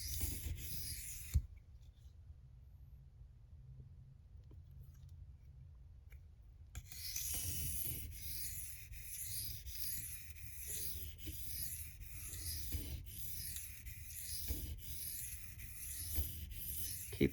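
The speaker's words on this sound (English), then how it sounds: "using our fingers to control the contact of the bevel to the stone, and only the weight of our hands" A Spyderco Manix 2 knife with an M390 steel edge is stroked across a 1200-grit silicon carbide stone. After a short rasp and a quiet pause, a steady run of close, even scraping strokes follows with no talking.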